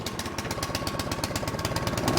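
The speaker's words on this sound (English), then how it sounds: "Okay, let's fire it up." A Craftsman snowblower engine runs with a fast, steady rhythmic chug that stays loud and near from start to end.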